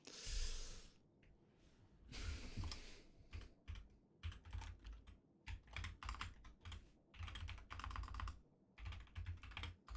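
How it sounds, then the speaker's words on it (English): Bursts of rapid keyboard typing, clattering keystrokes in quick runs with short pauses, close and fairly quiet, with a breath or snort between. "I can't see what I'm typing."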